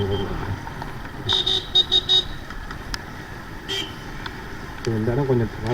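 Road traffic on a rainy ride toward Gingee carries several short car horn toots in quick succession, with a steady traffic rumble underneath and someone talking near the end.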